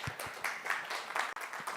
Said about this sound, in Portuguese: Uma salva de palmas para a colega.